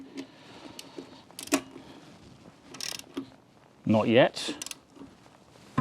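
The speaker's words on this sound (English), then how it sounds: "the torque wrench is going to make a loud, obvious click when the nuts are tight enough" A torque wrench tightens wheel nuts on a Nissan after a flat tyre, giving a few sharp, brief mechanical clicks and ratchet clatters spaced apart, close by, with a person talking between them.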